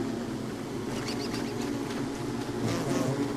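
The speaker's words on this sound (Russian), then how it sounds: "Так, пчелки, отвалите" Bees in the survival game Don't Starve, a continuous buzzing swarm hovering close around the player, steady and moderately loud with faint flutters of higher buzz drifting in and out.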